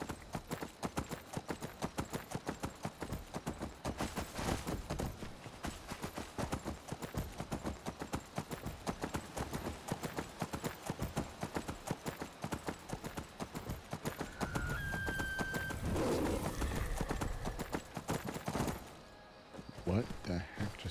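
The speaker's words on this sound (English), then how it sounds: "Oh, I bought this horse." Horse hooves clip-clop in a fast, steady rhythm during a ride in Skyrim, with someone talking over the galloping, then a brief louder burst of noise before the hoofbeats thin out near the end.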